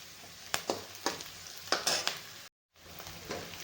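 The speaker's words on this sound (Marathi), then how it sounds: "कांदा आपल्याला छान गुलाबी होईपर्यंत चांगला तळून घ्यायचा आहे भाजून घ्यायचा आहे आपल्याला कांदा" Onion frying in a pan for a potato and cauliflower curry, a steady close sizzle broken by the scrape of a spoon stirring every half second or so, with a brief gap of silence near the end.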